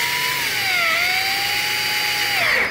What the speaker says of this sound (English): So I'm just going to drill in here and get a bit of water out